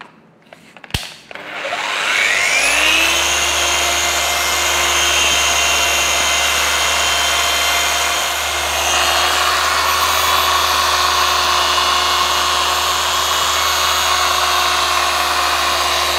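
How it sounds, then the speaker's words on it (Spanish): A polishing machine set to about speed 4 buffs the varnish on a 1995 Harley Davidson, spinning up after a sharp click into a steady, loud, continuous whine and hum that holds for the rest of the pass with no talk. "Seteando la máquina en velocidad 4 más o menos, es, si se quiere, la primera pasada."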